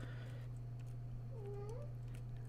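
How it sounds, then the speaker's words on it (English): A house cat gives a single short meow partway through, faint and somewhat distant over a constant low electrical hum in a quiet room. "There's my cat meowing,"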